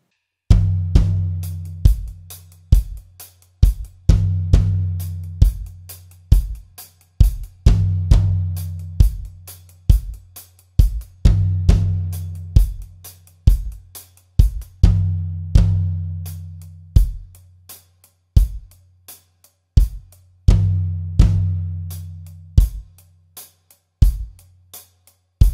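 Drum kit playing an intro groove, a two-bar pattern built on floor tom and bass drum with crisp cymbal or hi-hat hits, repeating steadily and loud, with no talking.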